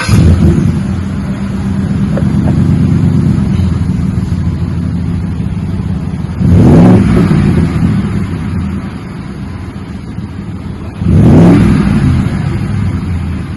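A 2017 Ford F150 with a Magnaflow 5 by 8 by 18-inch muffler and factory resonator idles loudly and close, with two short revs that rise and fall about five seconds apart, giving a mellow exhaust tone.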